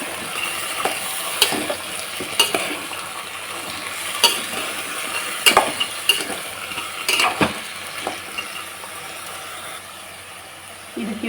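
Vegetables stirred in a pan while cooking alasande (black-eyed pea) sambar, with irregular scraping and clinking of a spoon over a steady sizzle, close and fairly loud, with no speech.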